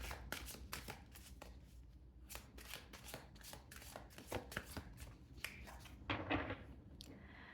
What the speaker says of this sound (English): so a lot of cards flying out here